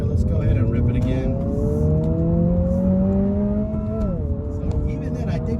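A Honda Civic Si engine revs hard, its pitch rising steadily toward the red line before dropping off. The sound is loud and close, with talk over it.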